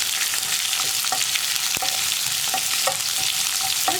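Chopped onion and cumin seeds fry in oil in a pan for an eggplant tomato curry, giving a steady dense sizzle with small pops and crackles, close and continuous with no talking.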